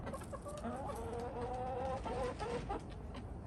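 Moulting chickens cluck softly and murmur close by, with a faint steady hum of insects underneath.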